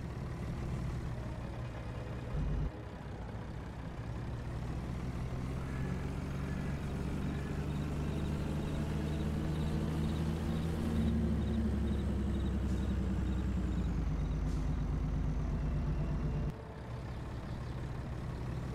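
A game-simulated MAN TGX truck with an 1800 hp engine drones steadily in Farming Simulator 22, its deep engine note rising and shifting through gears, with a brief hiss, and no talk.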